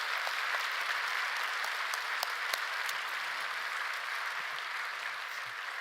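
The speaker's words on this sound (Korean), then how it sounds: "박수 한번 하겠습니다." A church congregation at a Friday night worship service applauds in a steady, dense wash of clapping that stays loud and even throughout, with no pauses.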